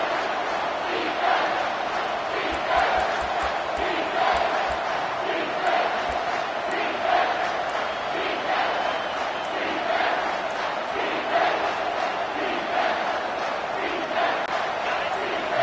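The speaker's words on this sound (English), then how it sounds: "Big 3rd down as the crowd gets behind this defense." A football stadium crowd roars and chants in rhythmic swells on a big third down against Georgia Tech, cheering for the defense as a loud, sustained, distant mass of voices.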